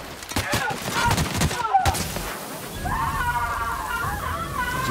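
Pistol fire in The Outer Worlds video game: a run of sharp, loud shots in the first two seconds, followed by a steadier mix of game effects and tonal sound.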